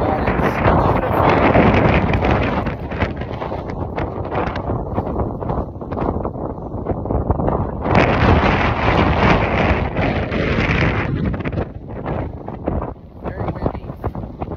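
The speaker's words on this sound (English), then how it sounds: "It's very, very windy." Strong wind buffets the microphone in open fields in a remote part of California, a loud, continuous roar and rumble that surges and eases throughout.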